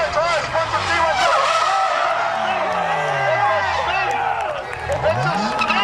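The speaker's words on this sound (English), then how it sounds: "It's a spin from the sleep D1 car." A D1 drift car spins out during a drift competition, with screeching tires and a revving engine rising and falling under loud excited commentary, a crowd faintly behind.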